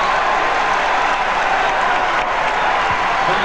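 Dense arena crowd roar with applause and cheers filling a basketball arena during a 1996 NBA Finals game between the Chicago Bulls and Seattle SuperSonics, loud and steady throughout with no gaps.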